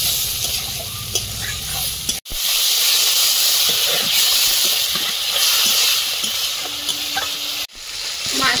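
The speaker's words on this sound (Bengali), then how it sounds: "মাছগুলো ভাজা হয়েছে" Fish, likely bhetki, frying in hot oil gives a loud, continuous sizzle and hiss, close by and steady, broken by two brief cuts.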